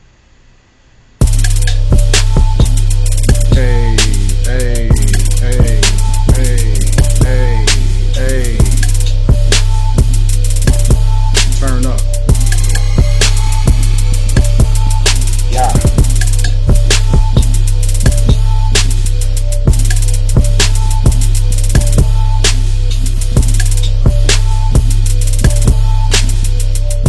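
Loud hip-hop beat built in MPC Essentials plays throughout, with a booming sustained bass, steady crisp drum hits on a regular groove and chopped melodic samples layered above, running without any talking.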